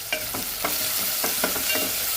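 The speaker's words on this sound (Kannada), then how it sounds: "ಚೆನ್ನಾಗಿ ಫ್ರೈ ಮಾಡ್ಕೊಬೇಕು." Chopped onion, garlic and green chillies frying in a pan for a fenugreek-leaf palya, a close steady sizzle with rhythmic scraping stirs.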